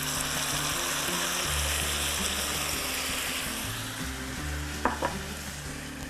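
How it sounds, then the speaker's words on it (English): Pureed tomato poured into hot olive oil with fresh basil for pasta arrabbiata, giving a steady, loud sizzle with stirring throughout and a few sharp spatters of crackle near the end. "now I'm going to be adding in about a cup of pureed tomato"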